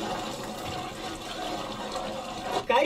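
Water is poured into a large pot of layered mutton biryani cooking outdoors in a village, giving a steady rushing pour that ends with a splashing surge near the end.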